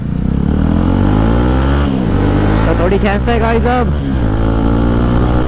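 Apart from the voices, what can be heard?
motorcycle riding past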